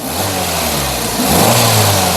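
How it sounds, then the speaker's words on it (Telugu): A 2023 Maruti Suzuki Baleno Delta's petrol engine runs at a smooth hum, then revs up partway through to a louder, higher steady drone. "ఒకసారి యాక్సిలరేటరీ"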